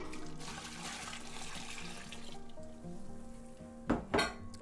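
Water pours into a stock pot in a home kitchen, a soft, steady splashing and trickling that ends with two brief louder sloshes near the close.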